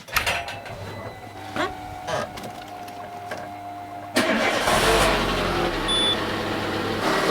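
A car engine cranks and starts on a cold winter day, turning over briefly before catching and settling into a steady idle. Cabin rattles and low hum come before it.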